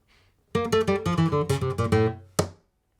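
A short flamenco bulerías phrase of plucked guitar notes in quick rhythmic succession, ending on a final struck chord that rings out briefly, heard alone.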